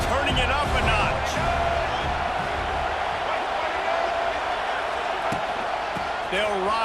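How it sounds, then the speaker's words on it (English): Stadium crowd in the College Football 26 video game roaring steadily through a third-down defensive stand, a dense loud wash of cheering that swells slightly, with a commentator talking over it. "Decibels rising as the crowd gets behind this defense on 3rd down."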